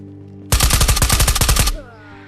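A loud, close burst of rapid automatic gunfire in a video game, about a dozen shots in quick even succession lasting just over a second, followed by a short fading echo.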